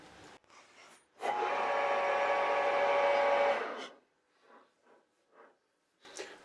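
Metal stock being faced on a lathe, a steady broadband cutting hiss with a tonal ring lasting a few seconds, loud and close, followed by quieter intermittent machine sounds.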